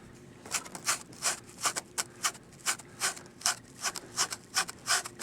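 A paint brush is worked over a Woodland Scenics foam tunnel wall, making close, soft scratchy strokes in a brisk, regular back-and-forth rhythm of roughly three per second.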